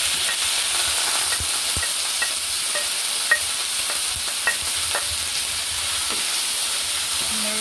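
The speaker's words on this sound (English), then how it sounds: "I'm just gonna put in all my natural seasoning, onion, green onion, everything right in" Chopped onion and green onion seasoning sizzling in a pot for Jamaican cooking, with a steady close frying hiss and scattered clicks and scrapes from a spoon stirring, no talking.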